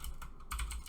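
A short burst of rapid, close keystrokes on a computer keyboard, clicking in quick uneven bursts with a brief pause partway through.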